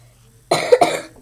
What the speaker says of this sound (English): Yeah, I'm just coughing.